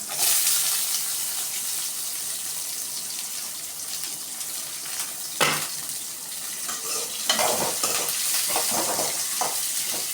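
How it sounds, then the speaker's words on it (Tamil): Onions sizzle in a hot pan with a continuous hiss, joined by clattering stirring and scraping sounds in the second half. "ஸோ வெங்காயம் நல்லா வதங்கட்டும்."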